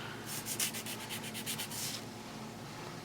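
Soft, quick strokes of a 240 grit file sanding fingernails, several short rubbing passes close up and quiet, fading out after about two seconds.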